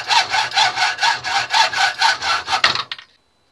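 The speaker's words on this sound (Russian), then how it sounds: "Давайте один отпилим под камеру." A hand saw cuts through the metal screw of a furniture handle in about a dozen quick, even back-and-forth strokes, close and loud, before stopping abruptly.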